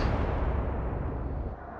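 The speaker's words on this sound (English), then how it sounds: "Big explosion on Bismarck." A huge, close explosion aboard the battleship Bismarck in the naval game Atlantic Fleet erupts at full force and rumbles heavily for nearly two seconds, slowly thinning out with no voices over it.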